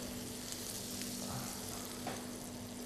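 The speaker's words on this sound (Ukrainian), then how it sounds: "За цей час в сковороду кидаємо наше масло. Коли воно розтопилося" Butter melting and sizzling in a frying pan, a faint, steady hiss that stays even throughout with a low background hum, no talking heard.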